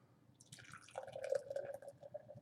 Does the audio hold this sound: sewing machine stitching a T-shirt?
no